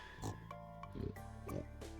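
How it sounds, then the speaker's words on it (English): A pig in Stardew Valley gives a series of short oinks and grunts, about five of them in an uneven rhythm over steady farm ambience. "That's just what everybody wants to hear is pig ambient sounds 10 hours."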